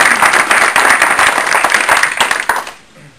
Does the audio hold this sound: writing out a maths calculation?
no